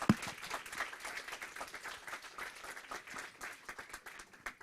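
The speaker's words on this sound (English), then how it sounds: "Give her a round of applause." A scattered round of applause at a hackathon pitch showdown, quiet and distant, with uneven individual claps rising and falling and no talk over it.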